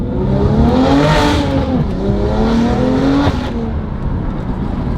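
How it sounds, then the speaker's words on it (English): A BMW M2 Competition with an aftermarket exhaust revs loud and close, its pitch climbing and falling in sweeping surges before settling into a steady idle drone. "It sounds similar to the signature exhaust, but not nearly as throaty and not nearly as aggressive and loud."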